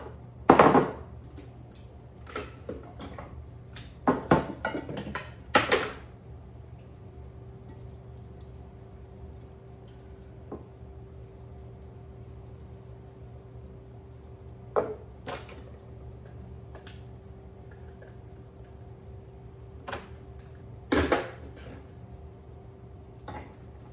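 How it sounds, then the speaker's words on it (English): A knife chops mango on a cutting board in a home kitchen, a handful of quick, close knocks clustered early, then sparse isolated taps over a low steady hum, with no talking. "going to give it a quick little chop, because I still want there to be pieces of mango in it"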